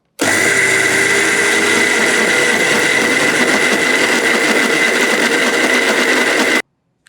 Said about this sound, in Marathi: हे मिक्सरमध्ये दळून घ्यायचं एकदम बारीक वाटायचं